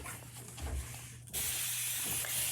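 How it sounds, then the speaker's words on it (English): Aerosol spray hisses onto a reusable chalk transfer for a Christmas craft, a sudden loud, steady burst that starts partway through and continues to the end after a quiet stretch of room noise. "spray your reusable transfer"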